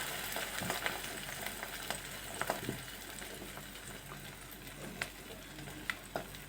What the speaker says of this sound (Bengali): আমি ডিমটাকে এই কড়াইতে ঢেলে দেব, ঢেলে দিয়ে একটা ঢাকনা দিয়ে ঢেকে রাখবো